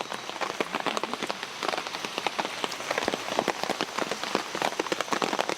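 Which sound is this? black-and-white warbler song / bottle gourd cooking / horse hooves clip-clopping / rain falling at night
rain falling at night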